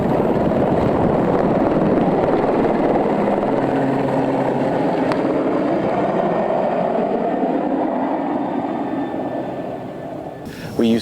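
A helicopter flies over high mountains at about 1,500 meters, its loud steady rotor and engine drone filling the scene alone, then easing slightly toward the end.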